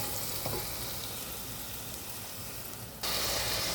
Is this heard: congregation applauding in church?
no